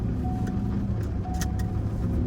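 A 2026 supercharged Ford Lightning truck driving in stock mode on a drizzly day, with a steady low rumble and road noise held at a constant level, no talking.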